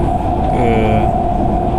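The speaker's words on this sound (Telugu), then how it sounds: "చూడండి పుష్ఫుల్ ట్రైన్ ఇది." Push-pull passenger train on the Vijayawada to Machilipatnam line rolls along with a steady, close rumble of wheels and carriage noise, a brief higher squeal rising in the middle.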